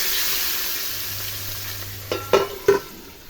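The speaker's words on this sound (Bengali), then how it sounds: "মাছগুলো ভেজে নেব।" Pabda fish frying in mustard oil, heard as a close, even sizzle that fades slightly, punctuated near the end by three quick clinks of a utensil against the pan.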